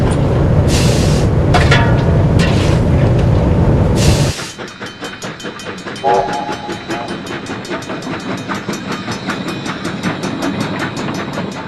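Steam locomotive JA 1271 pulls the South Island Limited Express out of Invercargill on 3'6" gauge on a freezing morning. Loud whistle blasts come first, then close, rhythmic exhaust chuffs and wheel clatter.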